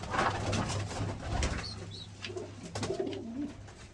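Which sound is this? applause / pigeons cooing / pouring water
pigeons cooing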